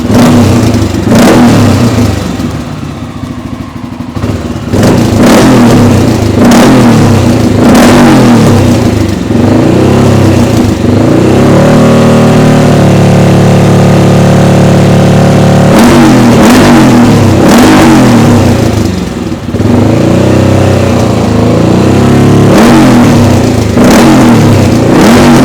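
A 1994 Honda XR650L motorcycle with a new CDI and high-compression mapping revs hard and loud up close, its single-cylinder engine rising and falling in repeated throttle blips with a steady idle in between.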